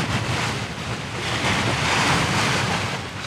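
Rough sea and gusting wind surround a Leopard 45 cruising catamaran under way, making a steady broadband roar of surf and wind buffeting on the microphone that swells slightly midway, with no voices.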